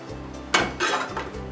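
Metal clinks against a cast iron pan as pancake batter goes in from a ladle: a few sharp, close taps and scrapes with quiet moments between.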